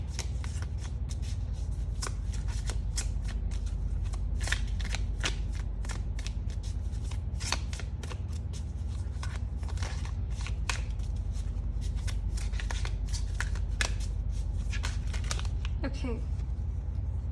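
Tarot cards being shuffled for a pick-a-card reading, a long run of close, crisp riffling and flicking bursts over a steady low hum, while someone talks quietly at times.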